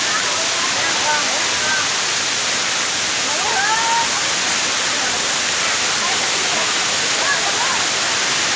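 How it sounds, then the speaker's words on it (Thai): Heavy water pours over the second tier of Tham Soda waterfall in Roi Et, Thailand, a steady, loud broadband roar with no pauses, filling the whole scene up close. "นี่คือแห่งที่สองของน้ำตก ถ้ำโสดาครับ น้ำจะตกนี้เยอะมาก"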